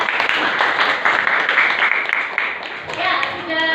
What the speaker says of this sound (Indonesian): Oke, tepuk tangan untuk Mbak Lia.